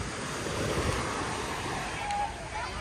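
Strong sea wind buffets the microphone over steady surf and breaking waves at Teluk Kemang, Port Dickson, a loud, continuous, broadband roar with no letup.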